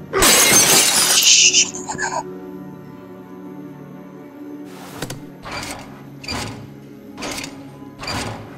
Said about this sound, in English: Then I heard the glass breaking.